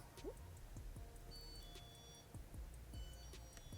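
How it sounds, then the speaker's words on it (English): Intermittent electronic buzzer beeps and tones ring out inside a Walmart store, with a steady background hum and scattered clatter. "That buzzer always going off in here."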